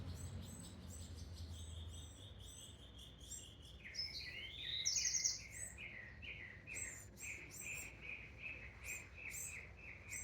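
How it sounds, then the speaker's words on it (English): Birds chirp and sing in quick repeated phrases, some near and clear, with soft background noise throughout. "Listen to the birds."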